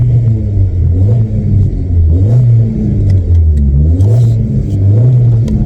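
A VW Vento engine stuck in first gear revs loudly and close, its pitch rising and falling through repeated climbs as the car strains along, with a deep rumble underneath and no voices.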